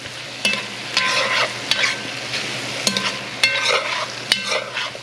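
Pork steaks are stirred through sizzling oil, butter and sauce in a pan. Loud, close frying runs throughout, broken by regular utensil scrapes and clanks about once a second, with no voices.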